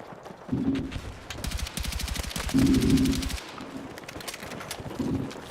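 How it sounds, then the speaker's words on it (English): Outdoor fireworks go off in rapid crackling bursts, a long string of pops with a heavier thump mixed in, faint and distant beneath the steady background of a shooter game. "we got dudes setting off fireworks outside"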